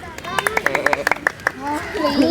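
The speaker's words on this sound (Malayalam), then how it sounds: "ഒരു പോയിന്റ് കിട്ടിയ നല്ലൊരു ക്ലാപ്പ് കൊടുക്കും" Quick rhythmic hand clapping, about a dozen bright claps, rewarding a child's correct quiz answer, with voices and chatter rising underneath as the clapping ends.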